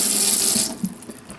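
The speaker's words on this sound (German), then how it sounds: "Und das Wasser geht ab" Water drains from a camper van sink after the plug is pulled, a close, loud gushing rush that stops abruptly after about half a second, followed by a few soft gurgles and drips.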